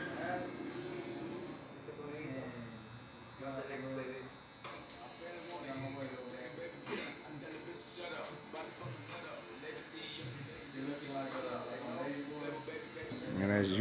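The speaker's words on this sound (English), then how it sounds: "now I'm gonna go back in on my trimmer," Electric hair trimmer cutting along the bottom line of a haircut in a barbershop, a steady buzzing hum running throughout beneath continuous talking.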